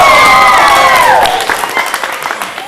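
An audience applauds and cheers loudly and steadily for an award nominee, a dense wash of clapping with raised voices mixed in, holding strong throughout.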